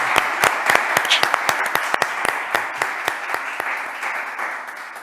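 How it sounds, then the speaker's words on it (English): Applause from an audience at a business event marking a startup pilot announcement, a dense steady patter of many hands with sharper individual claps standing out, sustained and fairly loud across the whole stretch. "Well, we can round of applause too."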